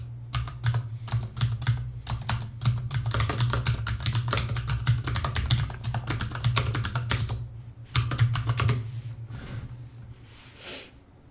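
Steady, rapid clatter of typing on a computer keyboard while writing compiler code, close and fairly loud, with a brief pause near the end before a few more keystrokes and a low hum underneath.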